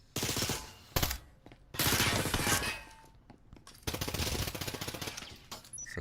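Gunfire in the VR tactical shooter Breachers during a competitive esports playoff match: loud, rapid automatic bursts separated by short gaps, with crackling impacts and shattering debris in between.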